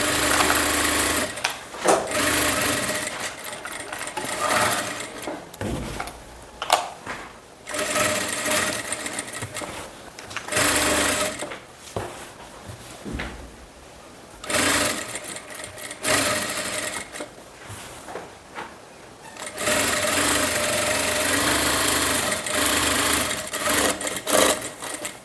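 Sewing machine stitching kurti fabric along a canvas-stiffened edge, running in loud bursts of rapid mechanical whirring separated by short pauses, close up with no talk.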